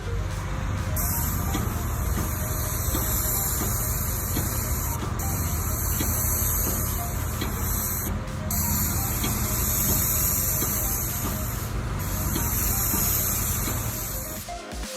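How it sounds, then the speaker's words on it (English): A steady, loud hiss of a high-pressure paint spraying machine coating a car's front console runs continuously, with faint mechanical hum underneath and a few brief breaks in the spray. "a special machine that feeds the paint to the nozzle under high pressure"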